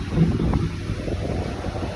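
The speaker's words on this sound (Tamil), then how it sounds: "காற்று வருகிறது" Strong wind buffets the microphone with a low, constant rumbling roar throughout, close and loud, with no talking, outdoors in Tirunelveli, India.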